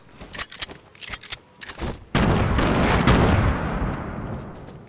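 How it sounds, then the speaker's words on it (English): Gunfire in a video game: scattered sharp shots at first, then a dense continuous burst of rapid fire for the last three seconds, loud and close. "What's that? Someone's shooting!"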